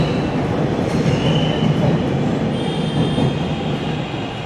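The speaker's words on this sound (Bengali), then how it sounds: "এই যে ট্রেন অলরেডি চলে আসছে" A Dhaka metro train rolls in at the Uttara North terminal station with a steady, close rumble of wheels and carriages and a few thin metallic squeals riding on top throughout.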